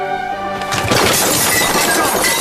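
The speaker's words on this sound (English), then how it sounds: "When she fell, she smashed all the glasses." Drinking glasses shatter and smash as a woman falls in a murder-mystery drama, a loud sustained crash of breaking glass spreading over about two seconds after a brief quieter lead-in.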